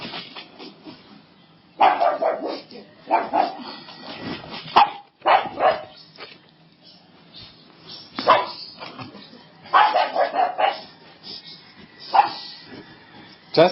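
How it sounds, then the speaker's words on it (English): A dog barks in a series of sharp bursts with pauses between them, fairly close and moderately loud against a quiet background. "as this dog, barks at people he doesn't like"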